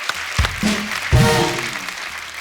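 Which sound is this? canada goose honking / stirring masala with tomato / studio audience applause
studio audience applause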